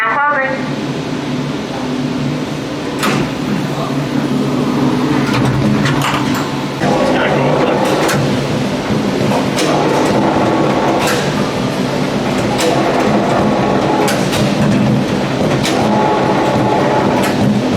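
A tram in St. Louis closes its doors and pulls away, with steady loud rumbling, rail clatter and periodic clicks building over time, while people talk in the car.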